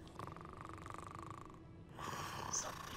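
A big sleeping creature in a magic-themed video game snores, one long drawn-out breath followed by a rougher second snore, alone and fairly close.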